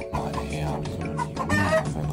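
A chicken clucks in repeated short bursts over steady machinery rumble and mixed background noise, fairly close and continuous.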